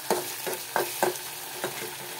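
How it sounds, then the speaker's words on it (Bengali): Grains and vegetables frying in a pan, a soft sizzle broken by several quick scraping stirs at an uneven rhythm, close and fairly quiet with no talking. "শস্যগুলো ভাজা ভাজা হয়ে গিয়েছে"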